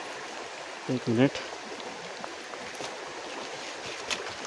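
Cut bamboo shoots are rinsed in water outdoors in the Konkan countryside, a steady close splashing and trickling throughout, with a brief spoken phrase near the start.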